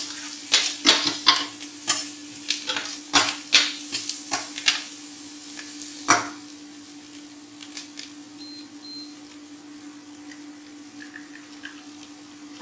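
Chicken paupiettes stirred in a pan after a pinch of four-spice: a run of close scraping, clinking stirs over a low steady hum, busy at first, then easing into a quieter sizzle with faint beeps.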